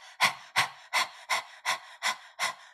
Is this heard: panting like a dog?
yes